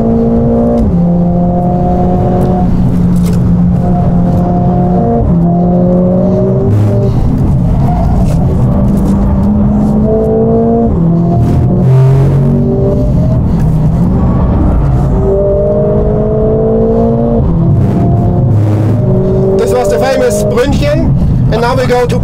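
Mercedes-AMG car driven hard around the Nürburgring test track, its engine loud and close throughout, rising and falling with repeated upshifts and revving as it speeds over bumpy sections, with speech faintly underneath.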